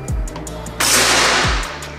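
A Mouser OD28 PCP air rifle fires a single shot, one sharp loud crack with a short ringing tail, preceded and followed by faint electronic beeps from a chronograph.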